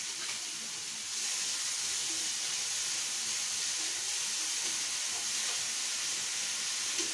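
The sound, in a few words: onion and chili paste sizzling in pan with frying ivy gourd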